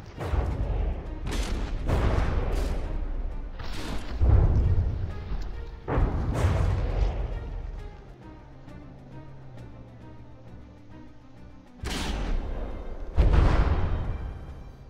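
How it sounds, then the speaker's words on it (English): Repeated heavy explosive booms of shells in the video game From the Depths, several in succession, loud and close, each followed by a rumbling decay with a quieter stretch between blasts. "Overlord getting blown to a stop by the explosion of those shells."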